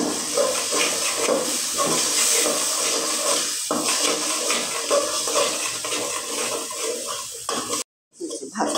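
Spices with turmeric powder fry in a pan with a continuous loud hiss and sizzle, broken by stirring scrapes, before the sound cuts off briefly near the end.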